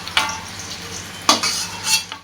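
Fried diced potato and paneer being lifted out of a pan for a potato-paneer curry: a few sharp metal spatula scrapes and clinks against the pan over a faint sizzle, with no talking.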